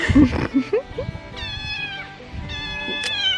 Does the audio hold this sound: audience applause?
no